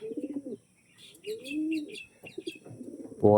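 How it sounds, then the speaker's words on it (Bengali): Old-generation pure-bred pigeons coo in short throaty bursts close by, with faint chirps between calls and a brief flutter at the end. "একদমই ওল্ড জেনারেশনের পিওর পায়রা"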